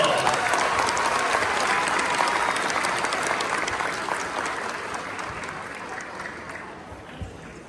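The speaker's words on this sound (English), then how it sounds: "let's give her a round of applause to Batesville" Audience applause for Ms. Mickey at a district school concert in Batesville, a dense, sustained clapping crowd that gradually thins and fades toward the end.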